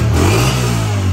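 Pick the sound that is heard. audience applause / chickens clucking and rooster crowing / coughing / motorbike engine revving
motorbike engine revving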